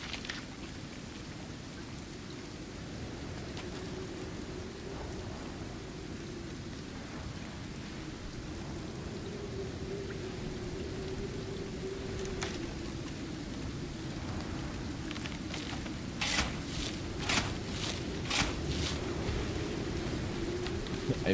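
Steady heavy rain and a rumbling thunderstorm in the video game ICARUS, a continuous wash of downpour that grows slightly louder, with bursts of crackling near the end.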